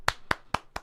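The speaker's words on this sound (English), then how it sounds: "Clapping hands." Four crisp hand claps ring out at an even, unhurried pace, close and dry with nothing else around them.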